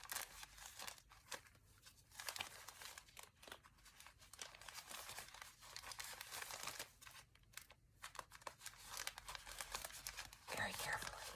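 Scissors snipping and rustling through the plastic wrap of a faux fur fabric sample package, close and soft, with crinkling and tearing sounds throughout and no voice over the cutting.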